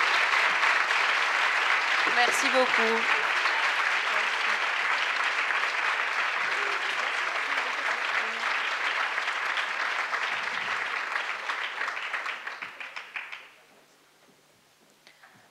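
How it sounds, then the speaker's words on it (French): Sustained audience applause at a public talk event, loud and dense for about thirteen seconds before fading out quickly; a voice briefly speaks over the clapping. "on peut les applaudir bien fort"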